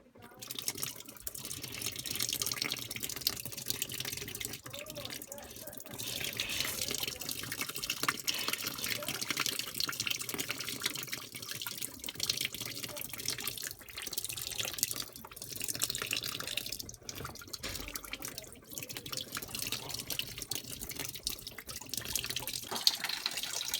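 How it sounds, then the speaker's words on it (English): Hot water from a Vaillant boiler shunt pump drains and splashes continuously into a bucket, a steady close trickling and gurgling that lasts throughout. "I'll blow through these tubes to force any last bits of water out."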